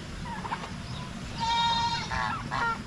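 Turkeys gobble and call in several short bursts at a moderate distance, over steady background noise.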